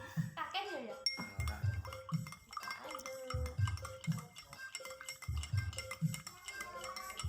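A spoon stirs warm water in a glass for a homemade natural cough remedy, giving repeated light clinks against the glass beneath steady talking.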